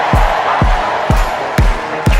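A live studio audience at a concert claps in a steady beat to a song, with a deep thump on each clap over loud crowd noise and cheering, close and energetic.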